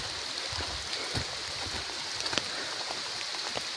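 Steady rain falling, a dense continuous patter on surfaces with occasional heavier drips, close and moderately loud.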